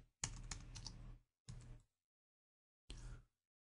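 Typing on a computer keyboard, heard as three separate close bursts of rapid keystrokes: a longer run, then two short ones, with silence between them and no voices.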